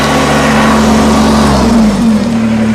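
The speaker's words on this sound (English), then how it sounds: "Throttle the tractor down." The engine of a 2019 Kubota BX23S tractor runs loud and close with a steady drone, its pitch shifting slightly as the throttle changes.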